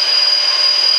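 A milling machine with a 5/8 inch cutter machines aluminum brackets at shallow depth, a loud, steady high-pitched whine with a dense hiss, close and unbroken for the whole second.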